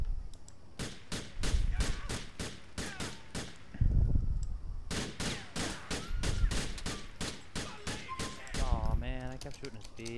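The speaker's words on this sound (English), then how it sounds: "He's shooting me." Rapid bursts of gunfire from the video game GTA IV, sharp repeated shots in fast clusters across the whole span, loud and close, with brief gaps and some game noise near the end.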